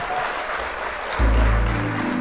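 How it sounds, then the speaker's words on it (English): A crackly wash of applause plays during a live music-making session. Midway through, a deep, sustained bass tone swells in underneath it. "Round of applause, ladies and gentlemen."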